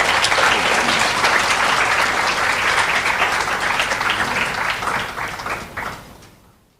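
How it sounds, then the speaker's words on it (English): A full room applauds at a national awards of excellence ceremony as an award recipient walks up, with dense, sustained clapping that holds strong for several seconds and then fades away to silence near the end. "Can we give him a round of applause as he comes up?"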